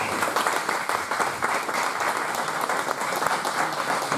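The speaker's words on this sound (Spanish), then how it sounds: "Aplausos, por favor." Conference audience clapping in sustained, even applause, a roomful of hands at moderate loudness with no pauses and no talk over it.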